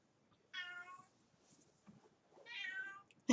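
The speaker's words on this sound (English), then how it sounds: "I hear Kitty meowing in the background there." A cat meows twice, two drawn-out, faint cries from a little distance with quiet room tone between them, followed by a short knock at the end.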